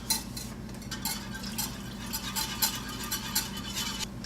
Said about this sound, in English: Keep whisking that in there.